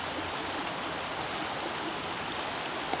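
Water in a stream flows and rushes in a continuous, even broadband roar, close and fairly loud, with no talk over it.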